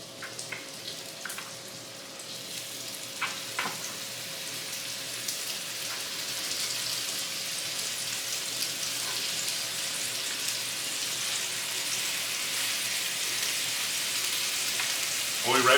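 Salisbury steak patties sizzle in about two tablespoons of hot olive oil in a preheated skillet, a steady dense crackle that holds evenly throughout with no talk over it.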